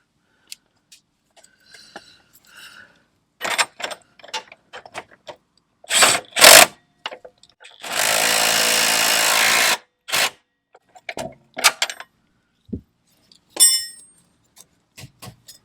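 A compact impact gun tightens the rear strut bolts on a Dodge Grand Caravan, giving one sustained loud burst of hammering whir between scattered clanks and short tool bursts, with no voices.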